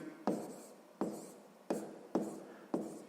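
Pen strokes on paper during a sixth-grade maths lesson, five short scratchy bursts each starting sharply and trailing off, spaced at fairly regular intervals, close and quiet with no talk over them.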